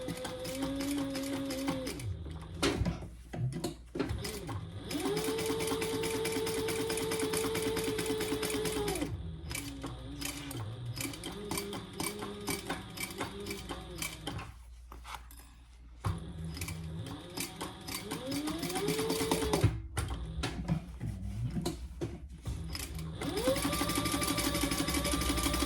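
A sewing machine bastes the fabric pieces of a clutch wallet, whirring close in several sustained runs of stitching broken by short pauses, with no talk.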